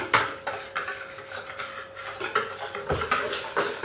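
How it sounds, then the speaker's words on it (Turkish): A spoon scrapes and clatters against a bowl while yeast dough mixture is stirred until smooth, giving steady rubbing strokes with sharp utensil knocks, close and alone. "Şimdi ben bunu böyle onunla birlikte şöyle pürüzsüz olacak gibi karıştırıyorum."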